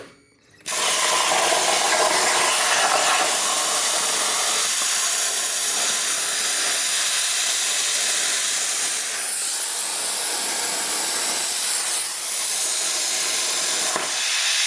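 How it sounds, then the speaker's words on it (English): A steady, loud hiss like steam or spray runs almost the whole way, starting abruptly and dipping slightly a couple of times. "Hear that sizzle?"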